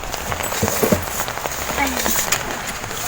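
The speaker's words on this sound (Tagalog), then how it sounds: "Lumalakas ang ulan." Steady rain patters on a surface, with scattered drips and a few light knocks.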